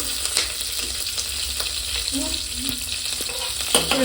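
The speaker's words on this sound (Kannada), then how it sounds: "ಎರಡೂ ಜೊತೆಗೆ ಫ್ರೈ ಮಾಡ್ಕೊಳ್ಳೋಣ" Green chillies and curry leaves frying together in hot oil, giving a steady close sizzle with faint crackles and a few light stirring clicks.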